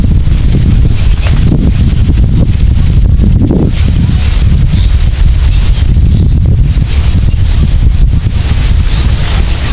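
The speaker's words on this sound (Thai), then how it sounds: "ลมมาสุดยอดเย็นเลยพี่น้อง" Strong cool wind buffets the microphone outdoors, a loud continuous low rumble and roar with gusting swells, fairly constant throughout and no speech.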